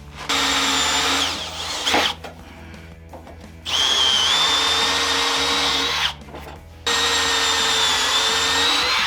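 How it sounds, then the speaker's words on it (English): A loud power drill whines at high speed drilling holes in wood for a clamp rack, cutting out briefly twice and spinning up again, three bursts of drilling in total, close up and with no talking. "we'll drill 3 holes right there"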